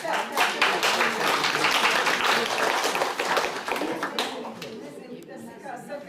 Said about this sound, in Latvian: Tas ir, kā saka, aplausi par Dievmātei